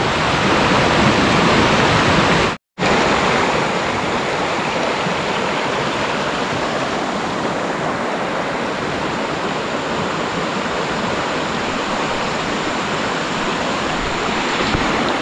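River rapids in a Malaysian national park rush with a loud, continuous broadband roar, close and steady, broken only by a brief cut near the start.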